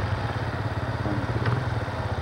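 Engines idle at an outdoor ice skating rink with a steady, moderately quiet burble and a faint rhythmic pulsing, heard without speech.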